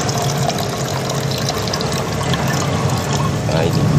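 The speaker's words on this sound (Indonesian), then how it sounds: "Lakukan proses pembilasan ini sampai benar-benar radiator bersih" Water gushing and draining during a car radiator flush: a loud, steady wash of splashing, pouring liquid that runs unbroken throughout, close by and with no speech.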